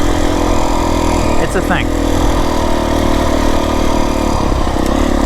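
A Beta 350 dirt bike out in open desert runs with a steady, close engine throb under someone talking briefly.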